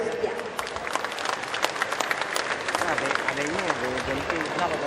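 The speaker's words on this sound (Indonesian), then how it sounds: "kita berikan tepuk tangan yang meriah" Applause at the opening ceremony of the Jakarta Great Sale festival: a steady crowd clapping for about five seconds, with a voice speaking over it near the end.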